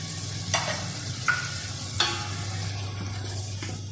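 A spoon scrapes and stirs chicken yakhni pulao with pulao masala in a pot, giving several distinct scraping strokes about once every 0.7 seconds over a steady low sizzle, close and alone with no talk.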